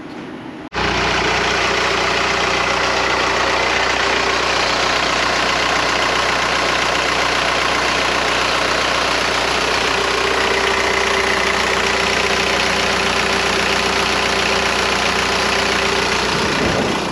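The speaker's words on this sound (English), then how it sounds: "the van is running great now. Like, idling dang near perfect." A TDI diesel engine swapped into a Volkswagen Vanagon starts up and settles into a steady, loud idle, a constant low rumble with a faint ticking knock running throughout.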